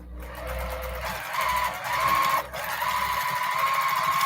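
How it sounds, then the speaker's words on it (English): A domestic sewing machine stitching free motion quilting runs steadily and close, a fast even whirring hum that keeps going with no voices. "I'm just doing some free motion quilting on my domestic."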